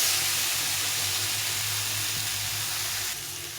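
Tomato and vegetables frying with spices in a pan make a steady, close hiss and sizzle with a faint low hum underneath, easing off slightly near the end.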